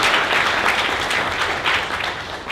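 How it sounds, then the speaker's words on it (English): Audience applause at a monthly tech meetup for the volunteer who films it, a dense, continuous wash of many hands clapping, loud and close, fading only slightly toward the end with no talk. "Let's give him a round of applause."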